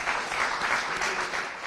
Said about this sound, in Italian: Ecco, facciamo un applauso